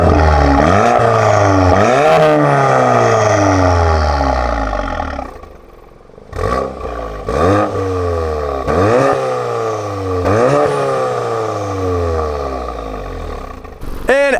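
VW Golf R with an IE Stage 2 valved exhaust revving repeatedly, each blip rising to a loud roar and falling away, with a brief lull before several more sharp revs close up.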